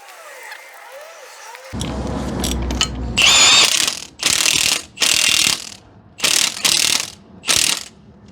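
Ratchet clicking in quick bursts as leaf spring bolts are tightened on a Ford F150, close and loud, with several separate clicking runs after a brief mechanical rattle.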